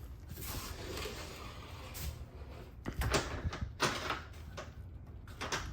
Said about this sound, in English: Magnet latch there to hold them closed for your privacy.